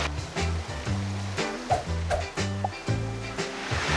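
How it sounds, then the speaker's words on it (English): A waterfall reached along a creek path in Canada gives a continuous broadband roar and hiss. Tonal, voice-like sounds rise and fall over it throughout. "Welcome to this secret waterfall."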